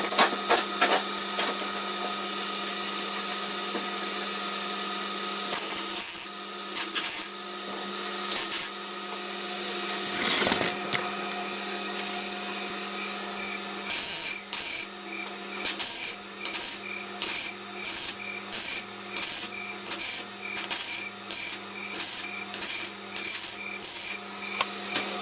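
A butt joint is welded on thin 0.6 mm sheet metal, producing a steady hum broken by sharp crackling bursts that become a regular, rapid pulse in the second half.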